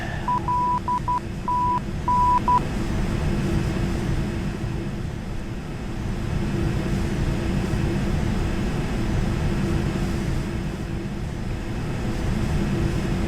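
Steady simulated Learjet jet engine drone in Flight Simulator X while circling near Luton, a continuous broadband roar with a few short electronic beeps at the start and no talking.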